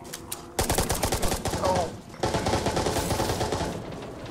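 Rapid gunfire from the online shooter game Resident Evil Re:Verse, bursts of automatic shots in quick succession with a brief pause midway, loud and close, with a voice talking briefly underneath.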